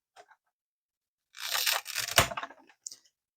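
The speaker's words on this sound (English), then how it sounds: "Carefully take this off. There's a bit of cellophane" Cellophane wrapping being peeled off a Hornby TT:120 Class 66 model train box, a close, crinkly tearing rustle lasting about a second with a sharp snap near the end, then quiet.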